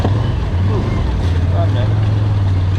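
Engine of a brand-new 2020 Can-Am Outlander 650 XMR ATV at light throttle, a steady close low hum with wind and mechanical noise, holding even for the short stretch.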